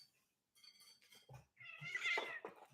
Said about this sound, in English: Apparently, Amy's torturing the cat